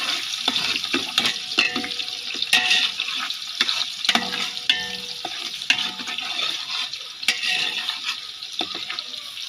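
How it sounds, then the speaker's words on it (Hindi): Onions fry in hot ghee in a pan, a busy crackle with scattered clicks and small splashy bursts of sizzle, moderately loud and steady throughout with no talk. "अब हम इसमें प्याज ऐड करेंगे। प्याज को हमने 2 मिनट अच्छे से फ्राई करना है।"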